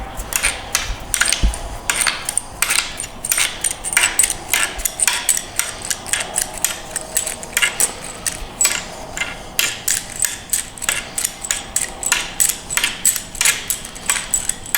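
Metal bolts are picked out of and dropped onto a pile during a 4R100 transmission teardown, giving rapid, close metallic clinks and rattles in quick succession throughout.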